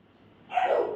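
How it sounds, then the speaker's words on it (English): A single dog gives one sharp bark on command, close and loud after a brief quiet moment. "Good boy. Sit. Good boy. Sit. Bark."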